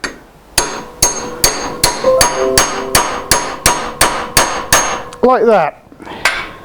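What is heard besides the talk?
hammering vase top piece into wood-turning lathe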